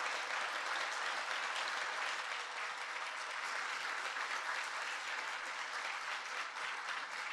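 Sustained applause from a panel audience at the Asofondos 2025 congress on macroeconomic perspectives, a dense, even clatter of many hands that holds steady throughout with no break.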